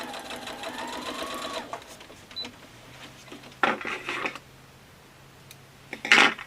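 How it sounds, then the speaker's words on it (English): Sewing machine stitching quilt pieces, a steady whirring run at the start followed by short bursts of rapid stitching, close and clear. "right sides together, and stitch this one"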